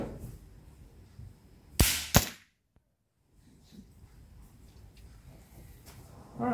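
A Hatsan Flash 101 .22 caliber air rifle fires two sharp, close cracks in quick succession, followed by a brief silence and quiet room noise.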